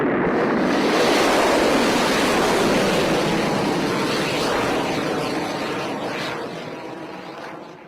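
A rocket launch roars just after ignition: a loud, dense broadband rumble that holds steady for several seconds before gradually tapering off near the end.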